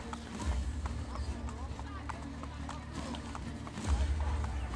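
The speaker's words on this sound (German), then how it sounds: "Boah, einmal ein Tritt vom Pferd." Horse in Assassin's Creed Brotherhood, set in Rome, clip-clopping through the streets in a steady hoof rhythm with heavier thuds, while someone talks over it.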